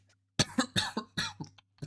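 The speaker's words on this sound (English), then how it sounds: "You shouldn't cough on stream." A short burst of several harsh coughs in quick succession, close and clear, with brief pauses between them and no talking.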